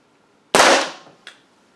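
A single sharp crack from a Benjamin .22 caliber air pistol, loud and close, decaying quickly, followed a moment later by a fainter short report of the pellet striking the target.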